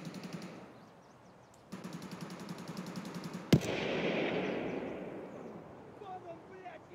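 Another player fires a gun in a video game: pulsing bursts of shots lead to one loud crack, followed by a rumbling wash of noise while people talk in the background.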